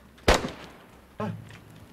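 Two sharp gunshots ring out in the Recovery Island 2 roleplay game, a loud crack followed about a second later by a softer second shot, each with a short decaying tail.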